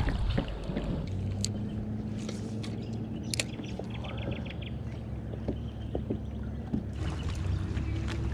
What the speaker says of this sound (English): Oh, bugger off, wind. That wind sucks.